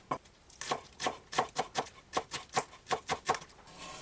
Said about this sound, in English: Chop the green part of the green onion.